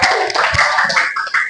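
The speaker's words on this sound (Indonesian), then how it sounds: "Tepuk tangan." Classroom applause from a group of students, a dense burst of hand clapping that stays loud and busy across the whole short stretch, with no talking over it.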